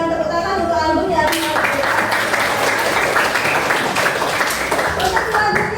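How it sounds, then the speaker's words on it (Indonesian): A classroom of students breaks into loud applause after a lesson on alternative energy, clapping taking over from a speaking voice and continuing densely and evenly to the end. "berikan tepuk tangan untuk album ya"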